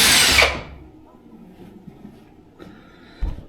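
A diamond-tipped drill bit bores a hole, heard as one loud, close whine that stops after about half a second. Quiet follows, then a faint clatter near the end.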